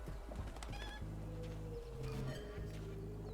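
Hens and a rooster in the video game Atomic Heart cluck and squawk repeatedly, loud and close over a steady low background hum, with no talking.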